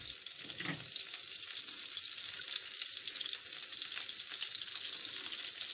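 Margarine and olive oil sizzling in a pan, a dense, even, close hiss that holds steady throughout with only faint scrapes, no speech.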